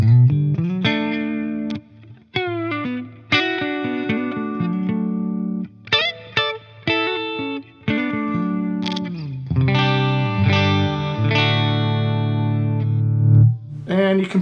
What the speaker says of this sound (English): So you're just listening to the amp and a little bit of that reverb.